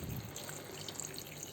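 Water being poured into a pan of banana stem kurma, a soft, steady trickling wash that stays faint and even.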